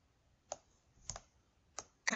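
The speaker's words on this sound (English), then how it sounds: "holding the control key down on your keyboard and then hitting enter will do that" Keys on a computer keyboard are pressed for a Ctrl+Enter shortcut in Skype, four quiet separate clicks spaced about half a second apart, close and dry, with the last pair in quick succession.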